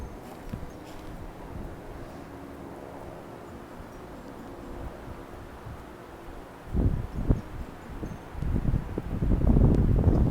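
Strong storm wind gusts outdoors in open countryside, rushing and buffeting the microphone, rising into louder, rougher bursts toward the end, with no talking.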